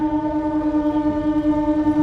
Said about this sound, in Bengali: জয়রামবাটি বাঁকুড়া উদ্বোধনী স্পেশাল ট্রেন ময়নাপুর রেল স্টেশনে এই মুহূর্তে প্রবেশ করছে